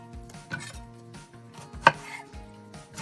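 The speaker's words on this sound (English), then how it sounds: "If you give it a rough chop ahead of time" Salsa ranchera vegetables being roughly chopped by hand with a knife on a cutting board, giving a steady run of close thuds and knocks, two of them sharper and louder than the rest, with no one speaking.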